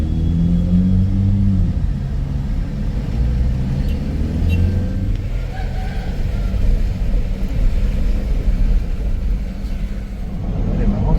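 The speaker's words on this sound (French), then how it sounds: "On se balade en voiture dans les ruines Incas." A car rolls along rough roads through the Inca ruins of Pachacamac in Peru, its engine rumbling steadily from inside the cabin with some rising revs, and people talk over the drive.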